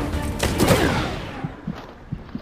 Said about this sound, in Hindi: अब शॉट गन से मारेंगे